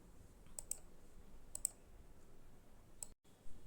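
Computer mouse clicking on a website, three quiet pairs of sharp clicks spaced about a second apart over a faint background hiss.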